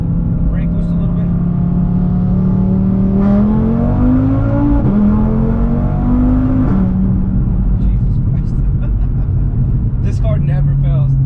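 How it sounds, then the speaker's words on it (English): An Audi RS3 stage 2 on E85 fuel pulls hard in second gear, its engine note climbing in pitch over several seconds before easing off, loud and close inside the car, with someone talking over the engine. "Here we'll do a second gear pull at 40."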